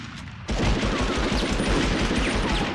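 Rapid gunfire in the Medal of Honor video game, a loud, dense burst of repeated shots going on without pause after a quiet start.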